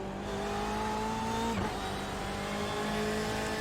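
Steady, loud race car engine drone in a GT3 endurance racing video game, holding a constant pitch with a brief dip midway, no voices.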